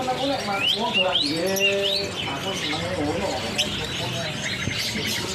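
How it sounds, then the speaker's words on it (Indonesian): Many caged lovebirds, about twenty, at a bustling bird market trill and chirp in rapid rising whistles and squeaky calls, loud and close, with background chatter and market bustle underneath. "Untuk burung lovebird-nya ini ada berapa ekor?"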